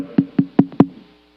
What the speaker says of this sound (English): he finally gets to the home and he knocks on the door